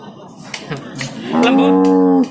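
Local cattle at the Jatirogo livestock market in Tuban, East Java, where a large, thin Limousin cow is on show; one long, loud moo swells up close after some scattered background voices and market noise.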